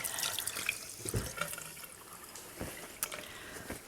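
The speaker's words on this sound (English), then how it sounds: "So I'm just gonna rinse my hands because I have green all over me." Water runs from a kitchen tap as hands are rinsed beneath it, a soft, steady splashing with uneven bursts and drips. It is faint and close, with no talking.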